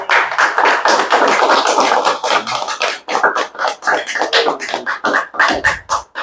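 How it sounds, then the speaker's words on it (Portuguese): A church congregation applauds for Jesus Christ, with dense, loud clapping that thins toward the end, broken by a few scattered individual claps. "Um aplauso a Jesus Cristo."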